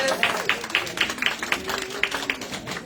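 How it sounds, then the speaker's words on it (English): An audience applauds panelists at a cancer panel discussion, a fairly close scattering of individual claps standing out over a softer crowd wash, with faint voices beneath. "Can we get a round of applause for our panelists?"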